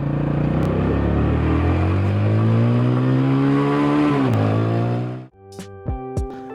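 A Honda Tiger motorcycle engine revs loudly and steadily nearby, its pitch rising and dipping slightly before it drops away, followed by a few short idle blips.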